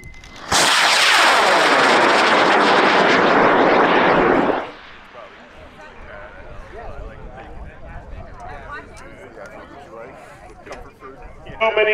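A scratch-built high power rocket on an L-1390 motor lifts off at a rocket launch event with a sudden loud roaring rush that lasts about four seconds, then fades into distant crowd chatter and talk.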